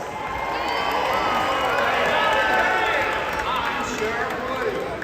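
A Disneyland show crowd of children and adults screams and cheers in a dense, sustained roar that stays loud for about five seconds, with voices mixed into the din.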